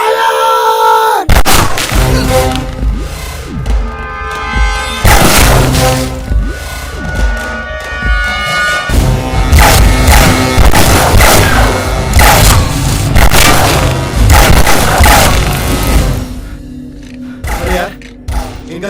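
Loud bursts of rapid gunfire in a Bollywood comedy film crackle and thud repeatedly, dense volleys with brief pauses, close and overpowering.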